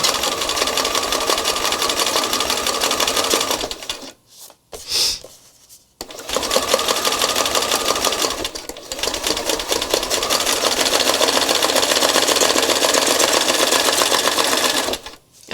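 Sewing machine stitching through an art journal page, a loud close rapid mechanical whirring chatter running in long bursts with brief pauses and a short stop partway through, no talking.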